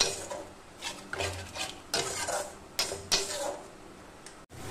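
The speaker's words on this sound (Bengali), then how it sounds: "এবার আমি মশলাটা ওই পেঁয়াজ আদা রসুনের মধ্যে দিয়ে দিচ্ছি, দিয়ে এটাকে ভালো করে নেড়ে নেব।" A spoon stirs spice paste through fried onion, ginger and garlic in a pan over a high gas flame for an onion curry, scraping in bursts over a steady close sizzle.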